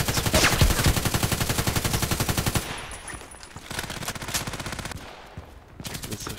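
Rapid automatic assault rifle fire in the shooter game Contract Wars: a dense, loud burst of evenly spaced shots for a couple of seconds, then shorter, quieter bursts with brief pauses, without speech.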